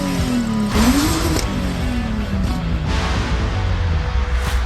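A Subaru car with a swapped-in flat-six engine revs, its tone climbing and dropping over a dense mechanical rumble, heard loud and close with no voices.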